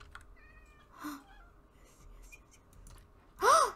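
Cartoonish cat meows in a video game, one short mew near the start and a louder, rising-and-falling meow at the end, over quiet game background and faint clicks.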